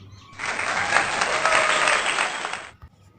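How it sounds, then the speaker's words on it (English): A burst of many hands clapping, dense and steady for a couple of seconds, then stopping abruptly. "We use our hands for clapping."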